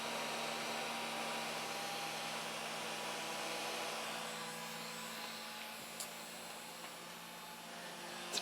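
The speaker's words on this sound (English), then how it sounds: "It's a pretty loud fan, as you can hear." Radiator fan and water pump for a WL Toys K949 RC boat's watercooled ESC, running together as a steady, faint whirring hum with a couple of tiny clicks toward the end.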